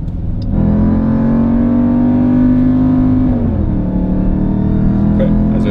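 A 710 PS Jeep Grand Cherokee Trackhawk SUV in track mode with manual shifting holds a loud, steady engine drone, then the pitch drops sharply as it shifts and keeps droning lower, with someone talking over it.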